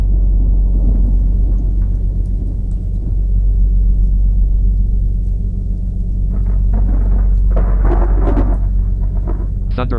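A thunderstorm in a flight simulator rolls on with deep, continuous thunder rumble, loud and near, with brief crackling bursts toward the end.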